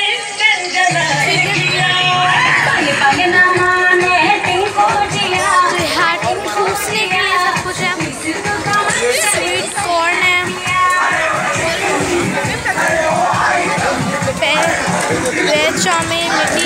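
A dense crowd at a crowded indoor wedding venue fills the air with overlapping chatter and babble, loud and continuous throughout, with voices and bustle blending into a constant hubbub.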